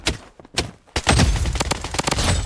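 Gunfire from the shooter game Blood Strike, with a Scar rifle in play: a few sharp isolated shots, then a dense rapid automatic burst of loud, close cracks.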